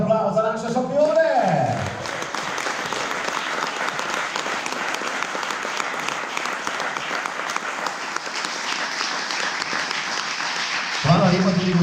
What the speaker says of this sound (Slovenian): Čaka vas en velik aplavz za naše šampione!